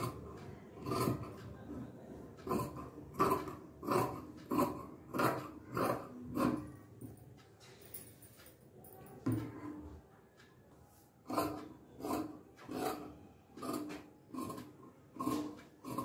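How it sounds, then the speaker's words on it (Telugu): Scissors cutting the back piece of blouse fabric for tailoring, a steady run of rhythmic snips, close and distinct, with a quieter pause partway through before the cutting resumes. "ఇప్పుడు మనం బ్యాక్ కటింగ్ చేసుకుందామండి"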